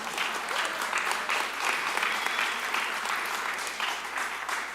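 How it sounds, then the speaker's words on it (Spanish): Church congregation applauding during a sermon, a steady, dense wash of clapping that fills the room continuously without any speech over it. "Yo les agradezco mucho que aplaudan porque me dan tiempo de tomar agua"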